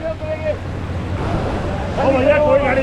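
Cold stream water rushing across a high-altitude mountain road on the Manali to Leh route, a steady broadband wash with wind noise and faint whistling tones near the microphone.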